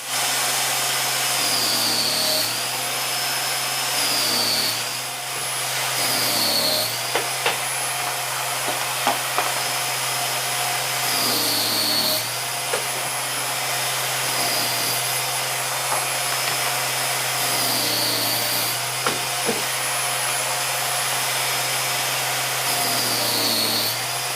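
A circular saw with a 40-tooth blade whines steadily, its pitch dipping briefly every few seconds as it bites into wood, with small knocks and clatter in between.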